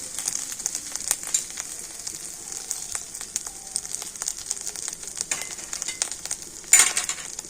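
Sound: ginger and spices frying in oil

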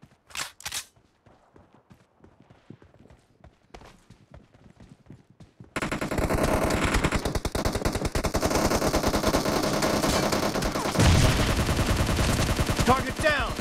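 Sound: SCAR-L rifle gunshots in PUBG Mobile video game

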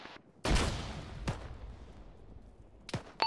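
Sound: grenade explosion in a military video game

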